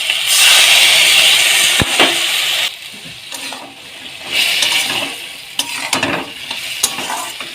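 Okra in mustard sauce sizzles loudly in a pan as water is poured in, the hiss dropping to a softer bubbling with intermittent stirring and scraping.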